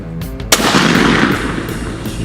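A shotgun blast while turkey hunting: one sharp, loud report cracks out near the midpoint and rings into a broad echoing tail, with faint ambient sound before it and no speech under the shot.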